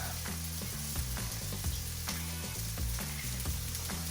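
Eggs frying in a cast iron pan with venison, a steady close sizzle with soft repeated scraping of a utensil, no talk.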